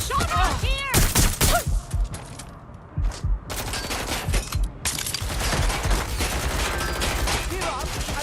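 Gunfire in the video game Watch Dogs: Legion, dense bursts of rapid automatic shots and loud single cracks crowding the whole stretch, with thuds and brief pauses between volleys and a voice grunting and speaking amid the shooting.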